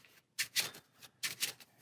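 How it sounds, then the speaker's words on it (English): Encounter card stacks from a solo board game are given a final shuffle, producing two pairs of brisk papery riffling bursts separated by short pauses, close and clear with no talking. "we're going to take our encounter stacks, give them a final shuffle"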